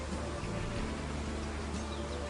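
A dense, steady buzz of many honeybees fills the air close by, continuous and unbroken.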